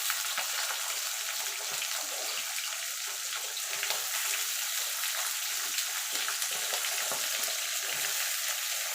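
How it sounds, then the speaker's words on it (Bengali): Mixed vegetables frying with lightly browned potatoes in a pan, giving a steady, close sizzle with soft stirring and scraping under it, continuous and fairly loud throughout with no talking. "এখানে বাকি যে সবজি আছে সবজিগুলো সব দিয়ে দেবো"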